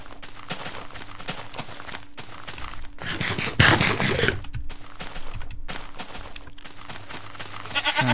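A goat in the YogBox video game bleats in short wavering calls over a steady layer of game sound, with a louder burst of clattering noise partway through.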